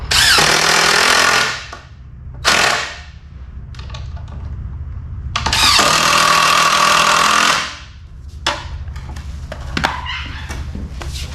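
A power drill drives two 3-inch screws through PVC into a fleshing beam, loud whining bursts of about two seconds each, with quieter buzzing tool noise between them and no talk.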